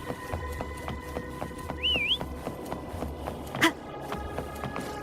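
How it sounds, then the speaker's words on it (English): In the video game Wuthering Waves, a short rising-and-falling whistle calls a creature over. It sounds once, clear and mid-loud, over soft footsteps and ambient game background, followed by a bright chime. "Why don't you call Foam over? Try whistling."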